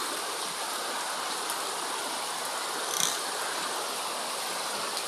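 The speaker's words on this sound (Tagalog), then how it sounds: "Nag-awas ang tubig din oh" Floodwater from heavy rain rushes and churns in a steady, loud roar as it overflows, with no break in the flow.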